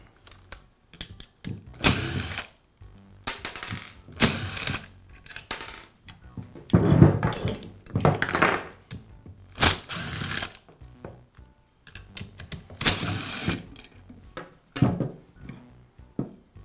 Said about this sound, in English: I'll begin by removing the rear housing from the drill.